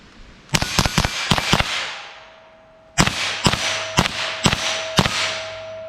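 A .22 LR rifle fired with 40 grain Winchester Varmint X rounds, a series of loud, sharp cracks in two quick volleys of about five shots each, with a short gap between them.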